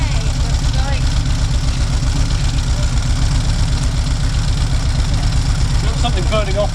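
A Volkswagen Syncro van engine running steadily just after starting, a close, even idle with a regular low pulsing throb throughout and faint background noise.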